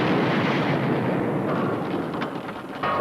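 Submarine torpedo launch from a 1974 film, a loud, sustained roaring rush that fills the whole stretch and eases slightly near the end.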